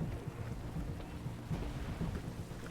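A muffled, continuous rumble of distant explosions rolls on in the video game 11-11 Memories Retold, dense and low with no distinct single blast.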